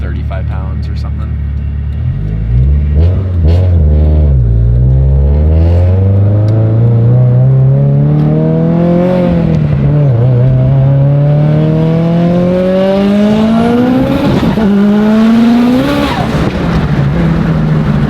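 Subaru STI making 1,000 wheel horsepower on more than 50 psi of boost accelerates hard, its engine note rising loud and close through repeated gear pulls, with occupants talking over the roar.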